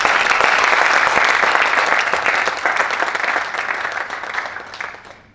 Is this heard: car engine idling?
no